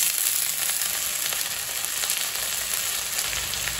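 Drumstick leaves sizzle as they fry in a pan with small onions and green chili for a Tamil murungai keerai soup. The sizzle is steady, close and unbroken, with no voices.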